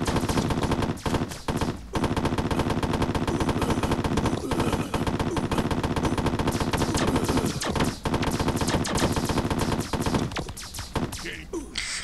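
Video-game gunfire rattles in fast, machine-gun-like bursts in a simple shooter built in STRUCKD, loud and nearly continuous, broken only by brief pauses between volleys.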